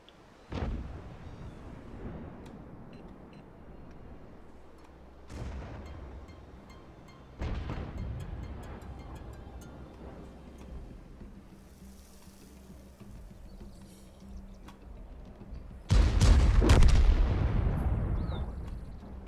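Distant artillery shells fire blindly in a video game, three or four deep booming blasts spaced several seconds apart, the last one loudest and closest, over a low rumbling ambience with no talk.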